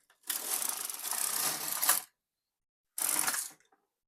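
A knitting machine carriage sliding across the needle bed to knit a row of a top, a two-second rattling sweep followed by a shorter pass after a pause, close and clear.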